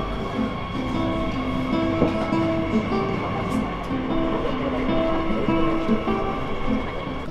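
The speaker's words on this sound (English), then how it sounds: "Took the subway." Madrid subway train in motion, a continuous rumbling ride with steady tonal whine and rhythmic rail clatter, heard from inside the car at moderate loudness.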